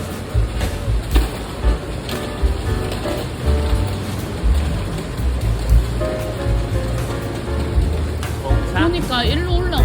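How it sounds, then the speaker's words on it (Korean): Steady patter of rain falling on a street in Sydney, heard nearby and continuous under people talking. "비가 오네요."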